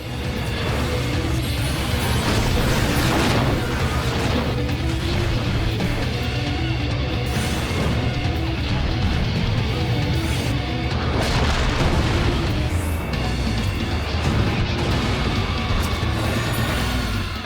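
Bombs exploding in the Titan trial in Final Fantasy XIV's Navel arena on hard mode, a continuous barrage of heavy booms and crashes layered over game music, loud and dense with no voices.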